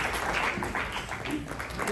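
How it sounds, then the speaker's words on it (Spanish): Applause from guests at a quinceañera reception, steady and fairly close, with the clapping mixed with a little voice and background noise throughout. "Dale fuerte el aplauso."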